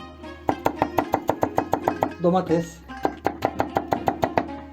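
A knife chops eggplant briskly on a board in quick, even strikes, pausing briefly while someone says a word, then resuming the steady rhythm.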